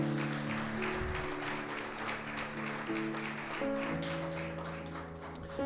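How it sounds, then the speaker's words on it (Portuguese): A church congregation applauds during a worship service, steady clapping sustained under sustained organ or keyboard tones throughout. "Dá mais uma salva de palmas para Jesus aí, então."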